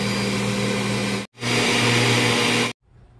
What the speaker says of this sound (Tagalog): i-run muna natin ng few seconds yung motor niya